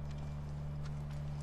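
Horse hooves clip-clop in The Last of Us video game, light and fairly faint over a constant low hum, with no talking.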